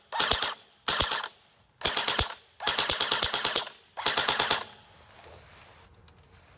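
M4-style pistol firing in full auto: five loud close bursts of rapid shots, short then longer strings separated by brief pauses, followed by faint ringing and ambient noise.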